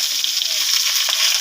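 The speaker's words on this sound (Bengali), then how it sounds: "পেঁয়াজ কটা দিয়ে দিলাম," Chopped onions sizzle in hot oil in a wok that already holds a little cumin, a steady, bright frying hiss heard up close and alone.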